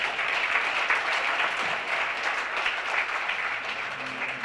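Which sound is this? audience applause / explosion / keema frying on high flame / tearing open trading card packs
audience applause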